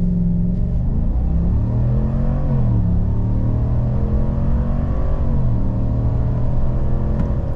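A 2024 Chevy Silverado with a 6.2 liter V8 launches hard, its deep, loud engine roar climbing steadily in pitch as it accelerates, close and continuous with no talking.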